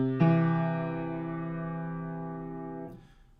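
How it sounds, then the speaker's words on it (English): Major third interval from C up to E, a single clear sustained pitched tone with a distorted, buzzy edge that holds steadily for about three seconds before cutting off, close and alone. "if we go from C up to E,"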